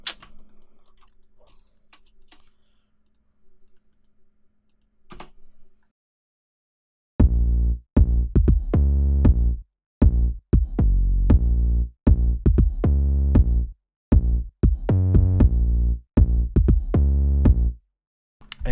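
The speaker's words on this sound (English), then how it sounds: "If you want to hear the 808 and the click together," An 808 synth bass in FL Studio, boosted with light drive and short release, plays loud booming trap notes in a syncopated pattern after a stretch of soft metronome clicks, heard alone without talk.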